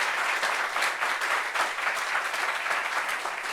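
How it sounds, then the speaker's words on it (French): A studio audience at a French-language talk show claps steadily, dense applause that holds at an even, fairly loud level from start to finish with no voices over it. "On applaudit pour elle."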